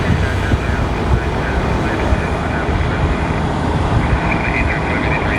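A Korean Air Boeing 747 jet arrives at LAX with a loud, broad, continuous engine roar that stays steady across the whole moment, while someone talks over it.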